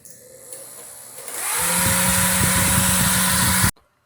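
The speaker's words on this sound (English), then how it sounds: "Now it's time to turn the motor on." A DC motor spins up from a low hum into a loud steady whirring whine with a rising pitch, runs for a couple of seconds, then cuts off abruptly.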